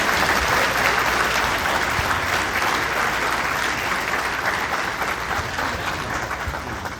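Sustained audience applause at a conference, a steady dense wash of many hands clapping that continues loudly and evenly throughout, with no talking over it.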